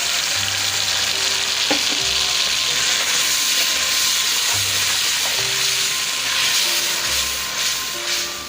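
A ground tomato and onion paste fries loudly in a pan over already-fried garlic, with a steady, dense sizzle and hiss and occasional stirring scrapes, for a chicken and potato curry.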